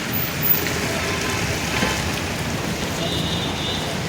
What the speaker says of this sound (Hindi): फ्रेंड्स यहाँ ना इतनी सारी बारिश आ रही है